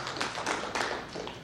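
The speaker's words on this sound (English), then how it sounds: "One more time, please give them a big round of applause." Audience applause at a business expo: a steady patter of many hands clapping, close and continuous with a few swells, no voices over it.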